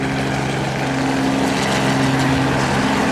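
A helicopter engine runs near one of three parked helicopters beside a car; a loud, steady droning hum with a low tonal whine holds constant throughout with no pauses.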